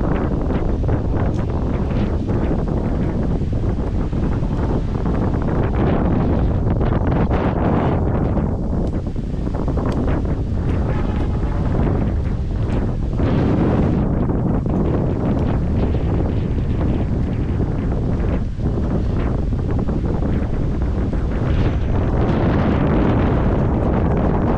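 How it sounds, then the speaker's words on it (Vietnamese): Strong wind roaring and buffeting a microphone high atop a Viettel BTS cell tower during 5G deployment work, a loud, continuous gusting rumble with no pauses. "Rất là gió."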